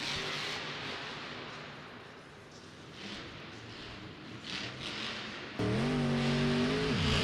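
The Zombie monster truck's engine roars loudly at Monster Jam in Syracuse's Carrier Dome in 2022, with a rough, wide engine noise that swells into a strong rising rev near the end over arena crowd noise.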